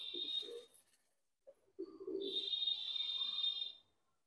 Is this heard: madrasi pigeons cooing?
yes